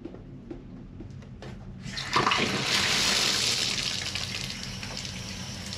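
A shower runs in the bathroom of a deluxe cabin on the Spirit of Tasmania ferry. It opens with a few taps and clunks, then bursts into a steady close hiss of spraying water with no talk.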